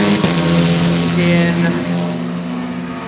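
Number 63 Mini race car in practice at Road America, its engine a loud steady drone passing close by, running under an announcer's voice over the circuit.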